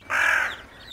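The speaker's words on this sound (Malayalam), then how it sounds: "കാക്കച്ചി," A single cartoon crow gives one loud, harsh caw, followed by a short fading tail and silence.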